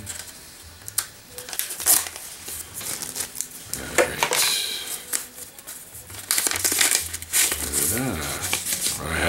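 A package sent by a subscriber is cut open with close crinkling, tearing and crunching of packing material in uneven bursts, growing louder toward the end, with someone talking between the noises.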